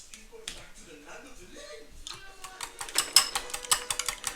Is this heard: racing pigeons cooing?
no